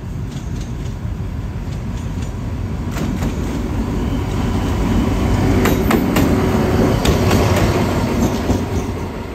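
An SRT Alstom diesel locomotive, number 4308, rolls in on track 3 at Bang Sue Junction in Bangkok, Thailand, with a steady low rumble, faint wheel squeal and clacking over rail joints that swell slightly as it draws closer.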